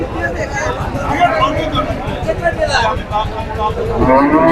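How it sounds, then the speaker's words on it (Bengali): A cow moos loudly and repeatedly amid a busy crowd of voices talking around it at a cattle market. "দেখুন চমৎকার গাভী।"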